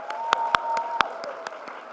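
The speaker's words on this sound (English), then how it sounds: "Can we just give Bottom Line another round of applause?" Sparse applause from an audience at a Chicago celebration event, several distinct claps over a steady background hum, brief and moderately near.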